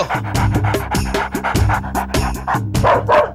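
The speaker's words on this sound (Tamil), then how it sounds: "ஐயோ நாய் நாய் நாய்." A dog barks loudly and close by in a rapid, repeated series of sharp barks, with little pause between them.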